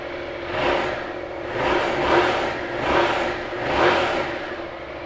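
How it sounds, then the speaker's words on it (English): A 2018 Yamaha Tracer 700 touring motorcycle's engine revs repeatedly, four rising and falling surges in a steady rhythm over a clattering idle, close and fairly loud with no talk. "Right, let's get it fired up for you."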